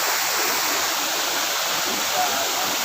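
Salakot Falls in Napsan, Puerto Princesa, pours in a steady, loud broadband rush of falling water, a constant roar with no break.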